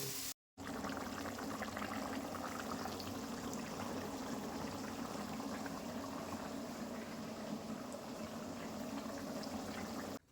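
Water in a pot on the stove, heating toward a boil before rice goes in, gives a steady, dense bubbling and rushing hiss that holds evenly throughout after a brief dropout at the start.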